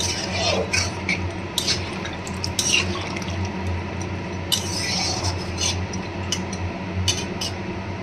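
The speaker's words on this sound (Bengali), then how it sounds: "কষানো হয়ে গেছে এবার আমি দিয়ে দেবো জল" Water pours into a pan of fish head curry, with scattered drips and splashes over a low background hum, fairly close and without speech.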